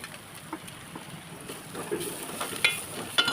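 Okra with red chilli powder and turmeric fries in oil, a low steady sizzle with soft stirring scrapes, close and fairly quiet.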